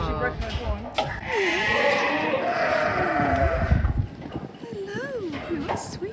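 Goats on a cheese farm in Montesdeoca, Tenerife bleat in long wavering calls nearby, several overlapping with a steady background hum, while people talk softly.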